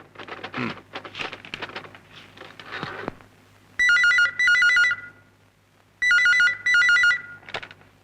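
A telephone rings in two pairs of electronic warbling bursts, loud and close, after a stretch of faint background chatter and clatter.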